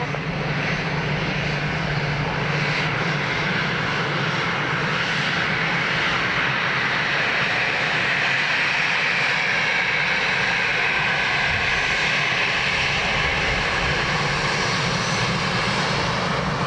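A fixed-wing airliner landing on runway 28 left at Dublin Airport, a steady loud engine roar with a broad rushing tone held throughout without speech.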